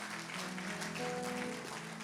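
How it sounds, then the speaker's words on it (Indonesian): A church congregation at a Sunday service applauding together, a steady, moderately faint wash of clapping lasting about two seconds with low tones sustained beneath it. "Tepuk tangan dulu untuk Tuhan yang luar biasa."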